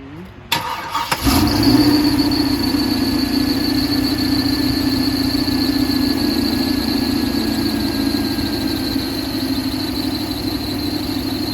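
A 1976 Buick Skylark engine with headers and a rebuilt carburetor starts with a quick crank and settles into a steady, loud idle with a throaty, deep rumble and a faint high whine.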